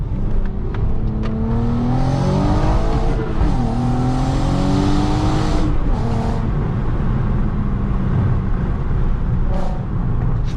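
A VW Golf R32 with its silencer cut out, accelerating hard in first gear: a loud, close, continuous engine roar rising in pitch through the revs, with brief lifts and shifts in tone, no talk.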